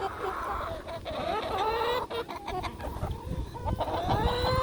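A flock of chickens cluck and chatter close by in a continuous busy mix of squawks and warbling calls, with no talking heard.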